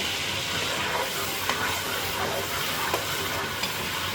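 Bay leaf, cinnamon and cardamom sizzling in hot oil, a dense steady frying hiss with a few small pops and crackles, close and continuous with no talk.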